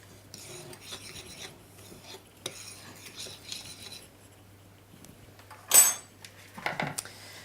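Flour, salt, cinnamon and baking powder for cinnamon biscuits are stirred together in a bowl, a quiet, scraping rasp of utensil on bowl with a few sharper knocks near the end.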